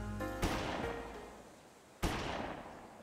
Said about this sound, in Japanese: 銃声なんかした？